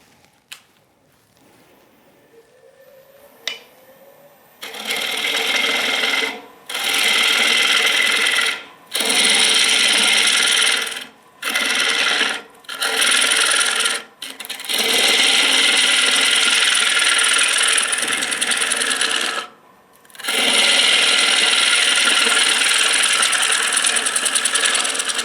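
A Hurricane carbide cutter shears the inside of a wooden bowl spinning on a lathe, a loud sustained scraping roar in long passes broken by brief silent gaps, after a quiet motor hum at the start.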